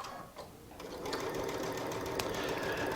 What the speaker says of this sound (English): I'm just going to match up the seam where the blocks meet, and I'm just going to keep on going